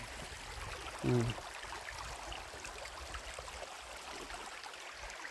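Clear water flowing in a stream, a steady close wash of running water throughout, with a brief murmured voice near the start.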